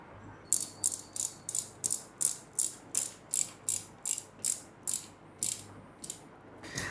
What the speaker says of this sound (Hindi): इस चीज़ को मैं इस तरीके से प्लेस करके इस होल के through I will screw it